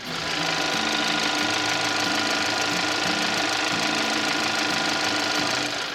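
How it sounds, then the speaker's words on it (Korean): A Kia All New K7 2.4 GDI engine idles steadily, a loud, close, even mechanical clatter with a fine rhythmic ticking that holds without change from start to finish. "자 마지막으로 이제 엔진 소리 한번 들려드릴 건데요"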